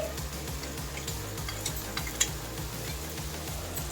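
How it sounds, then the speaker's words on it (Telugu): A pounded spice mixture for amla rasam hits hot tempering oil in a pan, giving a soft steady sizzle with a few sharp clicks of a spoon stirring against the pan. "ఇప్పుడు దంచి పెట్టుకున్న ఈ మిశ్రమాన్ని పోపులో కూడా వేసి వేయించుకుందామండి."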